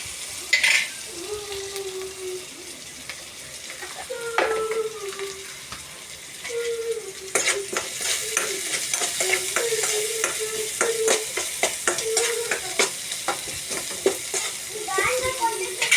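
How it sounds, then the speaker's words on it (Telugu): Onions frying in a pan outdoors among trees, with a steady sizzle and repeated scraping stirs, and a voice speaking intermittently over the cooking. "మన ఉల్లిపాయలు వేగుతున్నాయి ఆనియన్స్ ఫ్రై అవుతున్నాయి"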